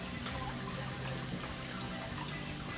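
Water being poured to mix a potassium permanganate solution for treating sick koi, a continuous close trickling and splashing with no talk.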